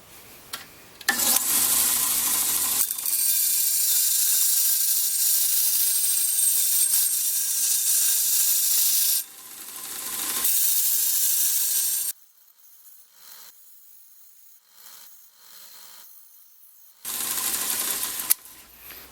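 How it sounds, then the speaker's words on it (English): Silver spoon ring blank having its edge smoothed with a hand file, a harsh broadband scraping in long steady strokes, loud and close, with a few quieter pauses between passes. "I'm just going to smooth out this edge on it before I cut out the rest with a hacksaw"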